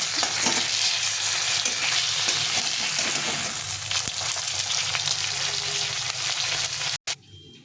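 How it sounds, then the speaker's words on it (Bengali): Fish frying in oil in a pan until reddish, a close continuous sizzle with faint crackles and occasional stirring, ending in an abrupt cut near the end, with no talk. "একটু লাল লাল করে ভেজে নিচ্ছি।"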